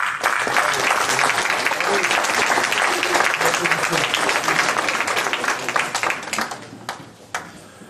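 Loud audience applause at a town's New Year address, vigorous sustained clapping from a crowd that thins into a few scattered claps near the end.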